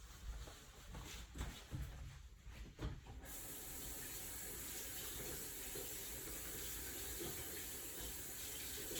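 A running tap pours steadily while hands are rinsed under it: a quiet, constant hiss of water after a few seconds of faint splashing and handling sounds.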